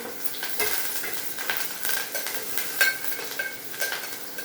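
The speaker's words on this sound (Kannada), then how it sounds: "ಜೀರಾ ರೈಸ್ಗೆ ಜೀರಿಗೆನೇ ಜಾಸ್ತಿ ಹಾಕ್ಬೇಕು, ಮೇನು ಜೀರಿಗೆ ಹಾಕ್ತಾಯಿದ್ದೀನಿ" Cumin seeds frying in a pan for jeera rice, a continuous close sizzle with intermittent stirring clinks and scrapes, no voices over it.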